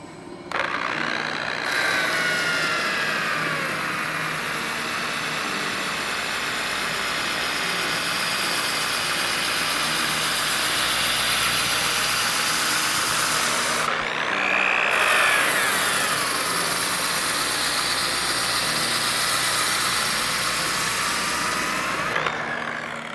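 A power sander running at its lowest speed smooths the tread of a tire, a steady droning whir that holds level throughout, with a brief change in pitch around the middle as the sander shifts against the rubber.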